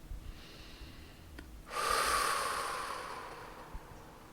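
A single long exhale during a guided meditation, a soft breath that swells suddenly into a breathy whoosh and then slowly fades over a couple of seconds, close and quiet against near silence.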